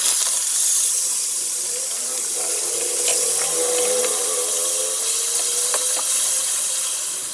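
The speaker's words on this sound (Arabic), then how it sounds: "الطاسه بتاعتي على النار وحطيت فيها معلقه من السمنه، وهبتدي دلوقتي انزل باللحمه المفرومه" Ground meat sizzles as it fries in ghee in a hot pan, a steady loud hiss with faint crackles and a few light clicks of stirring.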